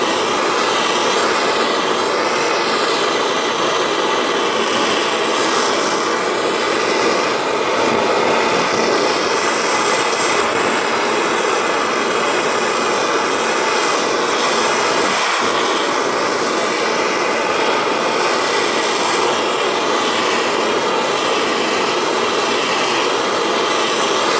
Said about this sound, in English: I'm heating it from the bottom just to get the whole crucible warm.